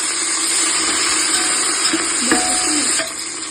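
Capsicum, tomato and coriander frying in a pan for masale bhat give a steady close sizzle, with a brief stir and clatter near the middle and the hiss easing slightly toward the end.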